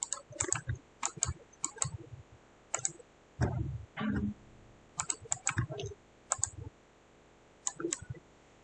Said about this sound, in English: Then press V on your keyboard to place wire.